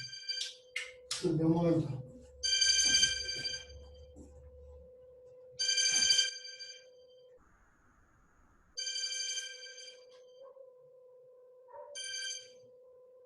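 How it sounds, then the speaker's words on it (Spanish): A mobile phone rings during a calculator maths lesson, repeated bursts of a bright electronic ringtone over a steady tone, fairly loud and close, with a brief spoken phrase near the start. "se me olvidó poner el teléfono en silencio"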